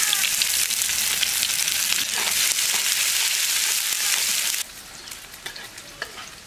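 Fish-curry tempering of mixed whole spices, dried red chilli and chopped onion frying in hot oil makes a loud, steady sizzle with stirring scrapes, then drops to a softer crackle near the end.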